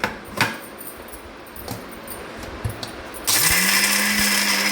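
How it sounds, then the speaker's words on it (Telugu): A few clicks and knocks of salt, cumin, garlic and peanuts being loaded, then a mixer grinder whirs on grinding chutney, running loud and steady to the end. "ఇవన్నీ వేసి మనం మిక్సీ పట్టుకోవాలి."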